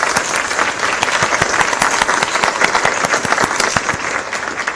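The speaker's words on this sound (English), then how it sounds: "Would y'all mind having me give the teams that put this together a round of applause?" A conference audience applauds the organising teams with loud, sustained clapping that stays even and full throughout, with no speech over it.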